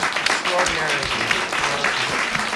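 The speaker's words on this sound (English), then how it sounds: "let's have a round of applause for the extraordinary" An audience at a journalism awards event applauds, a dense steady clapping crowd heard from within the room, with a speaking voice over it.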